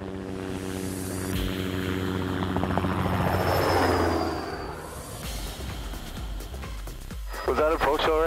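A Chinook tandem-rotor helicopter flies nearby with a loud, sustained rotor thump and turbine whine that swells and then eases, while people talk over the noise.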